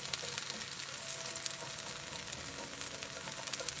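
Potatoes crisping in a cast iron pan give a steady, close hiss of frying with faint crackles throughout, no voices.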